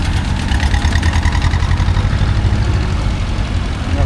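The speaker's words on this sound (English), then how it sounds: "Another couple of tractors coming up here." Vintage tractors at a rural pastimes show, a diesel engine chugging steadily nearby in a loud low rhythmic idle.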